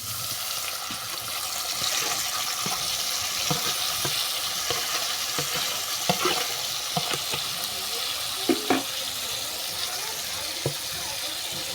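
Marinated ingredients go into hot oil with fried black cumin, giving a continuous loud sizzle with stirring scrapes and a few sharp clinks throughout.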